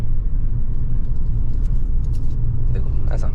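A car driving straight along a road in third gear during a driving lesson, a steady, close, low engine and tyre rumble inside the cabin, with a voice talking over it.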